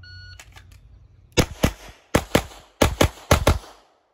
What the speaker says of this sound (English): I'm just going to look at the spot and shoot the target